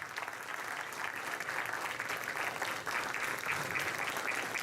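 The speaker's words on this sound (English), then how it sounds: "please give them one big round of applause for all this" Steady, sustained applause from an audience at a dance performance in a Hindu temple hall, dense and even throughout at moderate level with no voices standing out.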